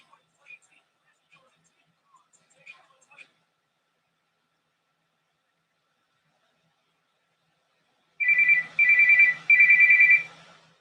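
An incoming phone call's ringtone sounds during a radio broadcast, three bright warbling rings in quick succession that break in loudly after a near-silent stretch of faint, scattered noises.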